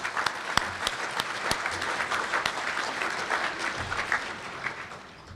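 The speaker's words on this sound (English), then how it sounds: "So give ourselves and the people of Hope a round of applause." An audience at an alumni awards banquet applauds steadily, a dense, even patter of many hands clapping together with sharper individual claps standing out, fading slightly at the end.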